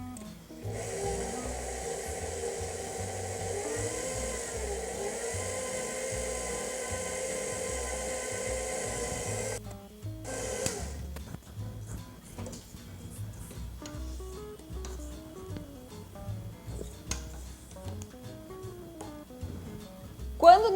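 Electric mixer slowly beating dough in a home kitchen, a steady droning motor hum for about ten seconds that then stops, followed by quieter scraping and clatter with some voices in the background.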